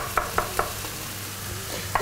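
Onions fry in a pan with a soft sizzle, punctuated by a few quick, evenly spaced scrapes and knocks of stirring, close and fairly quiet.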